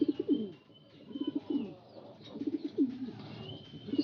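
Pigeons coo in repeated rolling bursts, several calls close by with short pauses between them and no talking, in a backyard loft after a divider was removed from between a cock and hen.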